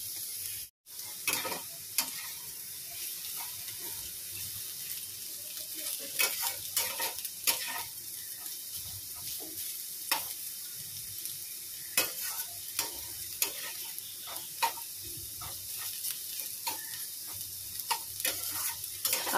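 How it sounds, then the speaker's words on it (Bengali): Potatoes fry in a pan, cooked until reddish with a little sugar added, giving a steady soft sizzle broken by repeated scraping and clicking from stirring, close up with no talk. "আলুটা বেশ একটু লাল লাল করে ভাজবো ভালো করে"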